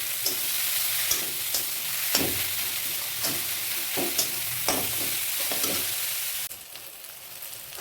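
Spices for a sweet pumpkin paste sizzle steadily in a pan while a spoon scrapes and stirs in sharp repeated strokes, close and loud, ending in a quieter stretch.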